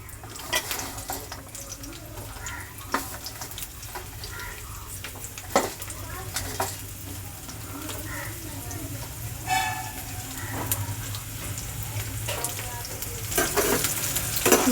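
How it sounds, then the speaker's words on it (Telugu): Pieces of bitter gourd fry in hot oil with a steady, close sizzle, broken by frequent utensil knocks and stirring clatter throughout. "ఫస్ట్ కాకరకాయ ముక్కల్ని వేపుకోవాలి నూనెలో."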